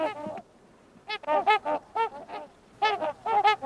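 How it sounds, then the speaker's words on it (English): Loud, nasal, horn-like honking calls from trumpeter swans come in quick clusters of several notes, close by, with short pauses between bursts. "I absolutely love hearing the trumpeter swans call."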